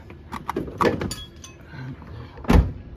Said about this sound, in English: There goes the door.